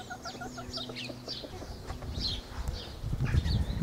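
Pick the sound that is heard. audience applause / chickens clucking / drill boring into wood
chickens clucking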